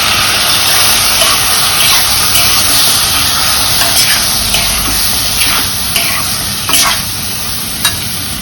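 Bhagar (barnyard millet) being sautéed in a pan, a loud continuous sizzle with repeated scraping and stirring strokes, close up and without talk.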